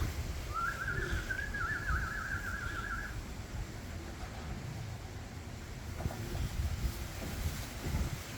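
Steady wind rushes and buffets a microphone throughout, a low broadband roar with a brief bird-like whistle near the start.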